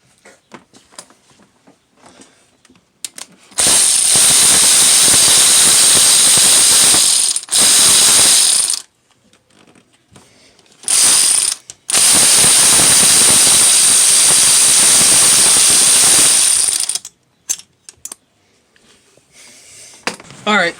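A ratchet spins 10 mm bolts off a Subaru WRX/STI engine during timing belt work, loud, close, rapid clicking bursts lasting several seconds each, separated by short quiet pauses.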